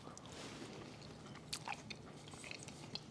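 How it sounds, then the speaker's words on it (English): Someone bites into a homemade butter mint candy and chews, a few crisp crunches and small wet chewing clicks, very close and quiet with no talk. "let's taste one of the little butter balls"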